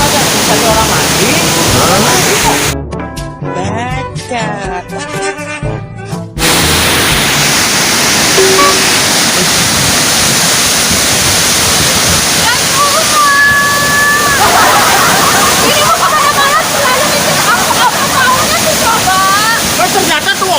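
Loud, dense waterfall roar fills the scene continuously, with a brief stretch of close talking breaking in near the start and faint tonal sounds riding over the rushing water later.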